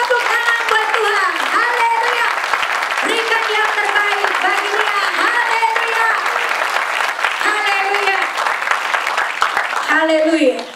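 A church congregation applauds steadily for the whole stretch, with loud voices and shouts rising over the dense clapping.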